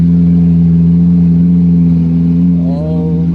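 A V12 car engine with a fire-breathing exhaust idles with a steady, loud drone, then revs up sharply near the end, its pitch climbing.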